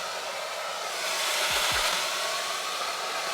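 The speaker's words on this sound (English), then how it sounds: "Maybe we should grab a blow dryer" A blow dryer running steadily at close range while drying a wig cap, giving a loud, constant airy roar with a slight swell partway through and no talking.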